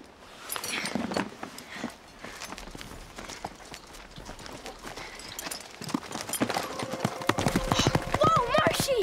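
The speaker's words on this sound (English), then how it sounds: "This horse is so smart" A horse walking with rhythmic clip-clopping hooves, close and steady throughout, while people talk over it and tonal music or calls come in near the end.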